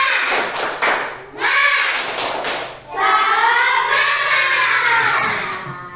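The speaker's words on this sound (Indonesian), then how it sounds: "kita bersama-sama tepuk semangat" Schoolchildren and their teacher do the tepuk semangat clapping cheer, with several bursts of rhythmic group clapping and chanted voices in a classroom.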